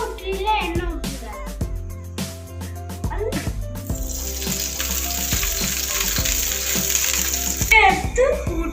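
Ghee poured over hot bread in a pan for a bread omelette sets off a loud, sustained sizzle partway through, after clanking, ratchety kitchen noises and a voice-like sound.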